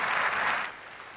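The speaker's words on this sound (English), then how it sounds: "for the applause to start outside, and then ripple into the Abbey through the open doors" Applause from the crowd outside Westminster Abbey during Princess Diana's funeral, faint and distant, a soft wash of clapping that fades away after about half a second.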